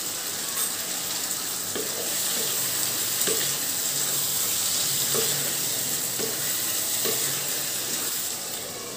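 Onions and spices for a prawn curry fry in a pan with a steady, close sizzle, broken by a few soft stirring scrapes at regular intervals, with no talking.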